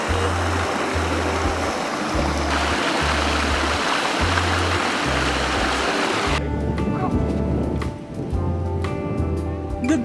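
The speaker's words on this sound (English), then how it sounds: "Nice little river." A small river flowing past a campsite, a continuous broad rush of water holding steady throughout, with a low rhythmic rumble beneath and the stream staying loud and close.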